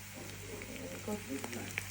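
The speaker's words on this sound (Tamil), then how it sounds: "இஞ்சி பூண்டு பேஸ்ட், பட்டை, வெங்காயம் எல்லாம் போட்டு நல்லா தாளிக்கிறாங்க" Quiet sizzling and crackling of ginger garlic paste, cinnamon and onion sautéing in hot oil for chicken biryani, with faint pops and a soft voice in the background.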